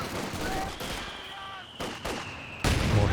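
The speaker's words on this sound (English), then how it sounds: "Mortars getting to work." Mortar and small-arms fire in the Company of Heroes 2 war strategy game, a dense battle mix of bursts and thuds with a whistling tone, swelling to a louder crash near the end.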